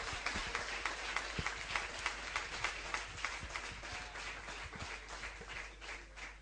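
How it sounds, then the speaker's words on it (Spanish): A church congregation claps in praise during a sermon, a steady crowd of overlapping hand claps at moderate level with no talk over it. "Denle ese aplauso al Señor"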